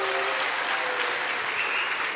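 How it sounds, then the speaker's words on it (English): Steady audience applause at a comic convention panel about The Office television show, continuous and dense across the whole stretch with faint crowd voices underneath. "So if we want to give him another round of applause."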